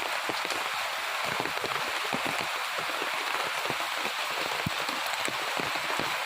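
Heavy morning rain falling steadily, a dense even hiss of drops striking surfaces with scattered sharper patters, continuous and fairly close, no talking.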